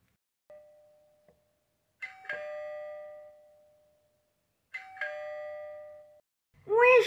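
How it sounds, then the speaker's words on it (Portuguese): A two-tone ding-dong doorbell rings twice at home, each chime ringing out clearly in a quiet room, followed by a brief voice at the end. "Gente, a campainha tá tocando,"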